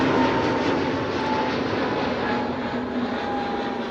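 A Lufthansa Boeing 747 quad-engine airliner on the runway at Amsterdam Schiphol gives a steady, broad jet roar that holds at an even, fairly loud level throughout.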